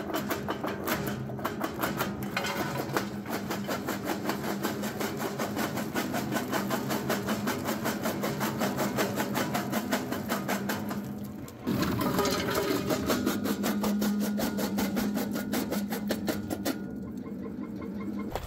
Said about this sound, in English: that stuff crushed up just like butter through the jaw crusher